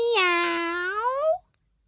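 A single drawn-out meow, rising at the end, is imitated by a human voice in a clean, close recording, followed by silence.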